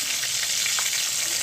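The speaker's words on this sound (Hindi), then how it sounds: "मछली फ्राई में कर लिया है" Fish frying in a pan gives off a steady, close hiss and sizzle of hot oil with faint crackles, continuous and unbroken, with no voices over it.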